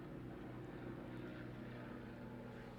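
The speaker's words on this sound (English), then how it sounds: "Got a helicopter flying overhead." Faint, steady drone of a helicopter passing overhead at a distance, a low continuous rumble with no talk, heard through a sensitive indoor microphone.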